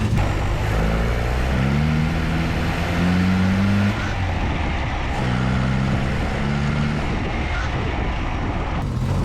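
A Datsun 520 truck engine droning steadily while driving and engine braking on high compression, a loud low hum with shifting tones as revs rise and fall, and no talk.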